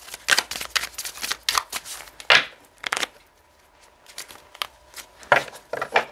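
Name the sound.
tarot cards being laid out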